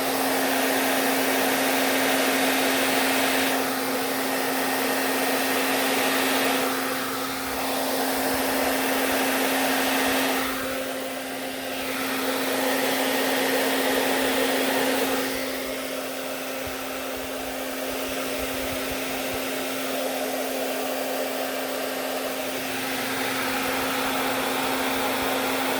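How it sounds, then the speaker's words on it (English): A hair dryer blows steadily and loudly for the whole stretch, its airflow shifting slightly in strength as it is moved about, with a strong constant motor whine. "see if I can get it to move a little more with the hair dryer."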